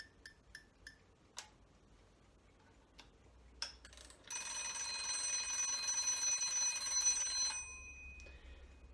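A Japanese Rhythm brand alarm clock in working order, found at a car boot sale, gives a few sharp ticks and clicks before its bright metallic bell rings loudly and continuously for about three seconds, then stops abruptly, heard close up.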